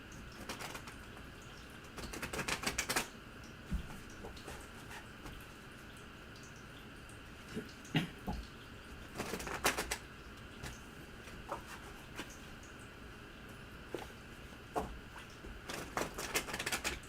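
Tarot cards are shuffled during a reading, with quick bursts of crisp, rattling card riffles separated by quieter stretches of soft handling and faint taps, close and fairly quiet.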